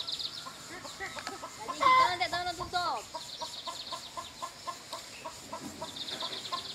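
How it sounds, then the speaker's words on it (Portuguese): A hen cackles and clucks on a rural Brazilian smallholding just after laying an egg, a loud burst of calls early on, then softer repeated clucks with other farm sounds in the background. "Tem uma galinha ali que acabou de botar."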